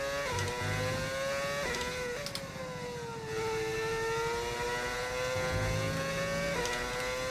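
Formula 1 car engine in the F1 25 racing game whines at a high pitch, holding steady and then climbing through upshifts, with brief dips between gears and a continuous loud drone.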